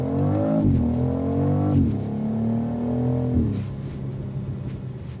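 A 2026 BMW X3 M50 SUV in sport mode accelerates hard from a stop, engine note climbing through three gear shifts, loud and close inside the cabin, then settling into a lower drone.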